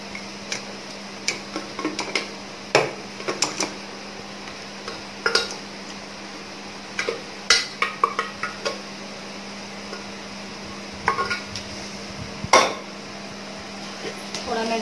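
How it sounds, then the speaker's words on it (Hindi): Chicken pieces go into a pot of biryani masala and get stirred, producing irregular metallic clinks and scrapes of a spoon against the pot over a faint sizzle and a steady background hum. "और ये चिकन मैं इसमें डाल देती हूँ"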